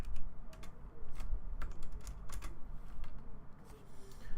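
Quick bursts of keystrokes on a computer keyboard while coding a Pong game, close and clicky with uneven rhythm over a low background rumble, no talking.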